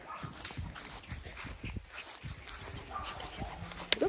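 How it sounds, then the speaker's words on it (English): Several farm dogs bark and yip in short scattered bursts, fairly faint and some distance off, greeting an arriving visitor outdoors among goats and other animals. "All the dogs down there greeting him."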